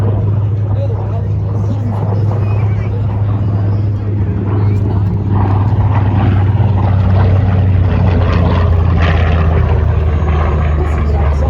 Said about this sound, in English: the sound of those radial engines fill the skies